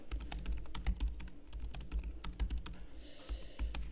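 Fingers type rapidly on a computer keyboard, a dense, close clatter of keystrokes with brief pauses, and no one speaks.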